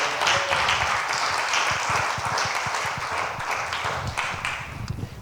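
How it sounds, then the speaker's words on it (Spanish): A church congregation applauds for the King during a Spanish-language worship service, dense clapping from many hands filling the room steadily throughout, loud and close with no talk over it. "Dele un aplauso al Rey con todo su corazón"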